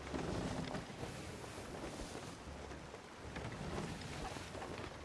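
A ship sails against the wind in the pirate video game Sea of Thieves, with a steady, fairly faint rushing of wind and water that swells and eases over several seconds.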